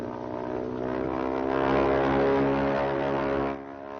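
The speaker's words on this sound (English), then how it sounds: "Did you ever hear an airplane before? Well, yes, but not as close as that" A propeller mail plane drones loudly and steadily, flying low and close overhead, its engine hum swelling slightly before easing off near the end, with no voices.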